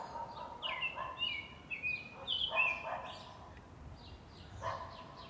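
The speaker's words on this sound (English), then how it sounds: "A dog starts barking in the distance" A dog barks in the distance in irregular clusters of short, faint yelps over a low outdoor hum.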